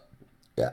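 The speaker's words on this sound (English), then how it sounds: "Oh god, the burping." A single loud, abrupt burp bursts out right after a stretch of quiet murmuring, close to the listener and brief.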